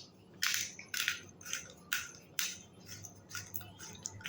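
Black pepper is crushed by hand in a kitchen while making doi bora: about nine sharp, gritty crunches in a loose steady rhythm, close up and quiet over a low background hum.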